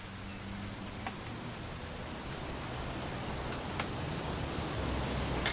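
Steady rain in the video game What Remains of Edith Finch, a soft continuous hiss of falling drops at an even level throughout, with no voices.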